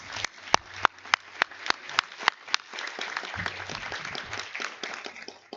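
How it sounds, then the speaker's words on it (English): A sparse round of applause at the JMUN 2022 opening ceremony honoring partners from the United States, Brazil and Lebanon, with a few loud, distinct claps standing out near the start before thinner, scattered clapping continues. "Will you please give them a round of applause?"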